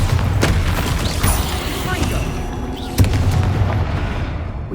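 Bombarda explosion spell in Hogwarts Legacy, cast against a spider: dense crackling combat noise with a few sharp booming impacts, one heavier blast near the end, over constant low rumble.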